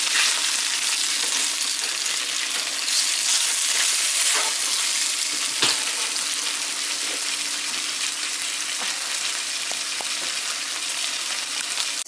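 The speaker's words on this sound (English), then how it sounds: "So I'm just going to fry it up" Beef browning in a pan for beef and broccoli, a steady loud sizzle and crackle of frying meat close up, with occasional stirring scrapes and no talking.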